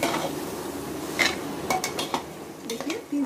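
Mutton coated in masala fries in a pot with a steady low sizzle, broken by several sharp metal spoon clinks and scrapes against the pot's side.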